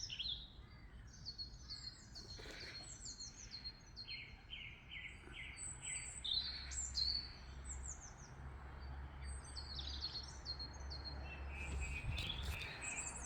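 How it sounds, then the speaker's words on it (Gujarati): Sparrows chirping outdoors behind a house near wooded land, a scatter of quick high tweets and short trills at a moderate distance over a faint insect hum and low background rumble. "આ બહાર બધો જો ચકલીનો અને બધો અવાજ કેટલો મસ્ત આવે છે."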